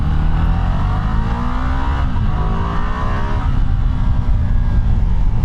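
A loud Ducati Multistrada V2 V-twin motorcycle engine revs continuously, its pitch climbing and falling in steady sweeps, heard close with no voices.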